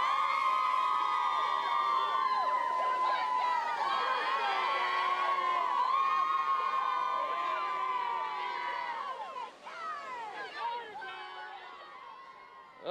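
High school football crowd and cheerleaders cheering at a night game, a steady roar of shouting and chanting voices that stays loud and dense, then thins and dips near the end.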